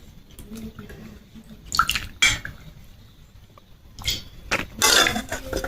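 Water splashes and drips in scattered bursts while bottle gourd leaves are rinsed in a kitchen, with quiet pauses between the louder splashes.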